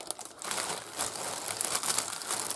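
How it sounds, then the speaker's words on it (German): A bag full of used-up and discarded cosmetics is crinkled and rustled up close, with continuous crackling plastic handling over a few seconds and no talking. "Ich habe hier eine Tüte voller Zeug."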